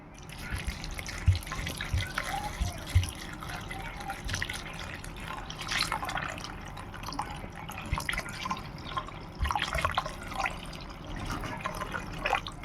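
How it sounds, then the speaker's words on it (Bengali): Water is poured into a pot of thick bitter gourd and lentil dal, making a continuous splashing, trickling flow with scattered drips and small clinks close by. No one talks. "আমি এবার পরিমাণ মতন জলটা দেবো"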